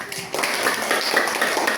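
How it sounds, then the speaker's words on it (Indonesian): Classmates clap for a student group in an Indonesian language lesson, a brief burst of scattered hand claps in a room starting after a short pause. "Tepuk tangan dulu untuk kelompok"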